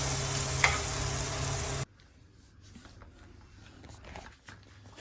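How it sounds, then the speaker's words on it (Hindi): A loud, steady sizzle of hot oil from a tempering for dal fills the first couple of seconds, then cuts off to quiet stirring and soft clinks. "चलिए अभी मैं लगा रही हूँ दाल में तड़का।"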